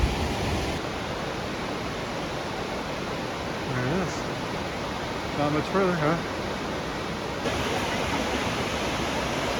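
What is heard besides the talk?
Hidden Falls waterfall at Grand Teton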